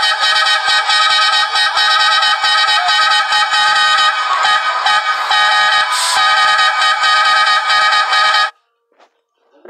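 A loud, brassy truck air horn from a video game blares in long sustained blasts with brief dips, then cuts off abruptly near the end, leaving near silence.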